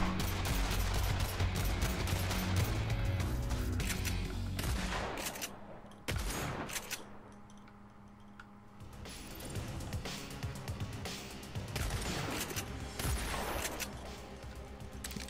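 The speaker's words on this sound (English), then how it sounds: "Man, this shotgun has a really nice range." Shotgun fire in Agents of Mayhem, dense bursts of loud blasts mixed with explosions and game noise, easing briefly mid-way before the shooting picks up again.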